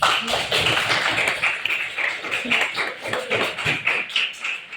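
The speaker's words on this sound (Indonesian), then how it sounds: "Kita beli aplaus dulu." An audience claps in a room after a learning session, a close, brisk patter of many hands in quick uneven bursts that runs continuously and fairly loud throughout.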